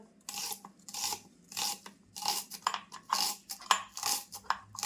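A knife slices vegetables as thinly as possible for a veg biryani, producing a series of short, crisp scraping cuts against a board, roughly a dozen strokes in an uneven rhythm, close and fairly quiet.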